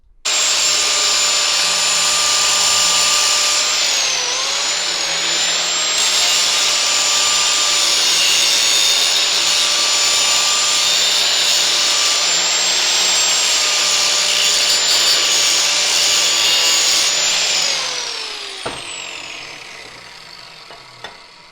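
A grinder shapes the end of a roll cage tube into a fish mouth for a Jaguar XJ6 champ car, a loud, steady, high abrasive whine running unbroken for about seventeen seconds before winding down, with no talking.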